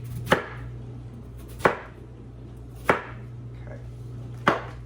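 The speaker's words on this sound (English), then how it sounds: "So I'm just going to cut it into slices. And then we'll cube it." A knife chops through a firm vegetable on a cutting board in four crisp, evenly spaced strikes about a second apart, close and distinct over a steady low hum.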